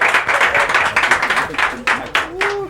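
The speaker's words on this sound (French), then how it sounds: "On va l'applaudir encore s'il vous plaît." An audience at a live show applauds steadily with dense clapping that swells and fades over a few seconds, while a host talks over the noise.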